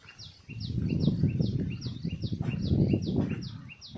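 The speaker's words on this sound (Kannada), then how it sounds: "ಕೇಳಿಸ್ತಿದೆ ಪಕ್ಷಿ ಕೂಗು." Repeated short bird calls chirp in a steady rhythm over a low rumbling background, moderately close.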